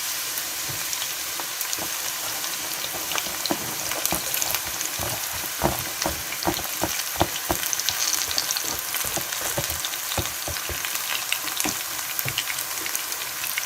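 Onions fry in a pan, giving a steady close sizzle dotted with frequent crackling pops and occasional stirring.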